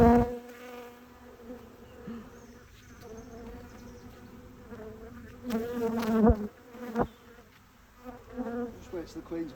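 Agitated honey bees swarm and buzz over a hive frame lifted with the queen on it during a May hive inspection, a steady close drone with a few louder swells and brief knocks of handling.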